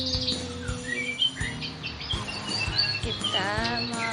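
An oriental magpie-robin singing nearby, a varied run of clear whistles, chirps and quick trills, loud and close over a faint steady background hum.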